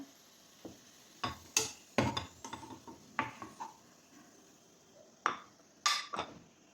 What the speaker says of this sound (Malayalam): ഉള്ളി ഇവിടെ ഫ്രൈ ആയി വന്നിട്ടുണ്ട്. അത് നമുക്കൊരു പ്ലേറ്റിലേക്ക് കോരി മാറ്റാം.